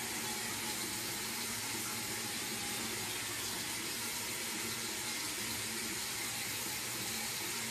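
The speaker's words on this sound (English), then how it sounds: "Turn the water off." Water runs steadily from a household tap in a home, a continuous broadband rushing stream that stays even and close for the whole stretch, with no talking over it.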